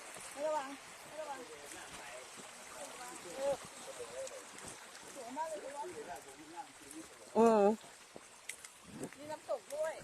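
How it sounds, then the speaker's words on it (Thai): A small forest stream on a fossil-hunting hike at Phu Pha Lek trickles faintly and steadily in the background, as voices chatter on and off nearby. "อันนี้เขาเรียกว่า ลำธาร"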